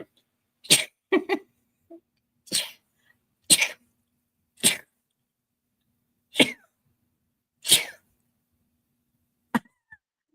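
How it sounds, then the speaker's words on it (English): A series of about eight loud, close sneezes with short pauses between them, ending in a fainter final one, no talking. "Hold on, I have to sneeze."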